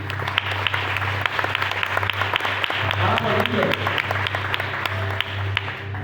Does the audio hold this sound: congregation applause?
yes